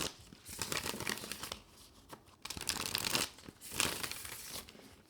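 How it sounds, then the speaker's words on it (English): A flexible, bendy tarot card deck being shuffled by hand close up, crisp riffling and slapping bursts in several uneven rounds with brief pauses between. "Now let's do a little bit of a shuffling demonstration here."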